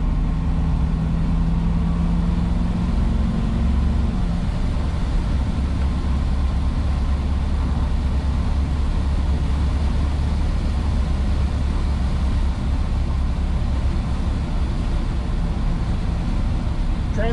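A fuel-injected 1962 Chevrolet Corvette on a short drive, its engine droning steadily and loud with a low, continuous rumble, a brief tonal hum near the start, and no voices.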